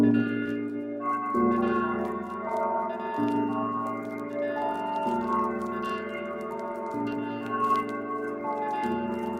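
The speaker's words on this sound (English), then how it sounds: "Ring bells." A series of bell-like tones ringing in stepped sequence, sustained and resonant, moving between pitches without any voices.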